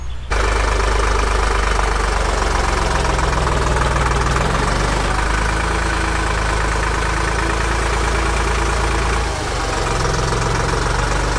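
A tractor engine runs steadily and loudly up close with a knocking, chugging idle, used to carry a heavy greenhouse cover on its front loader; a brief dip near the end, no talk.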